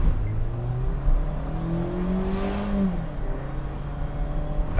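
A 2016 Mazda MX-5 Miata in sport mode accelerates hard. The engine note climbs steadily, dips briefly at a gear change, then pulls on as a loud, continuous drone heard from inside the car, with no talk.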